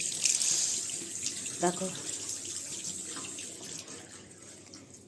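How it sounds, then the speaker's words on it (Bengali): Hands being rinsed under a running tap in a very cold setting, with a steady trickle and splash of water continuing throughout while a person speaks briefly over it. "এদিকে আমি হাতটা ধুয়ে নিই, প্রচণ্ড ঠান্ডা"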